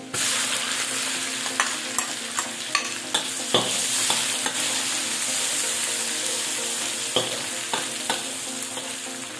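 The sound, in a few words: garlic and onion frying in a hot pan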